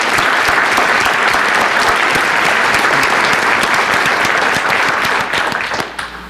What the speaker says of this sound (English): could we give those students all one big more round of applause, please?